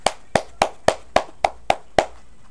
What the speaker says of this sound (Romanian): Hai să aplaudăm pentru el.